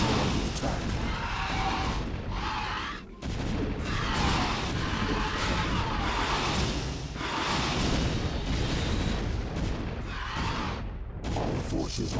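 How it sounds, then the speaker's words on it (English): Rapid gunfire and booming explosions from a StarCraft battle, a dense and continuous loud barrage with bursts of impacts, a brief lull near the three-second mark, then sustained fighting again. "Our forces are under attack."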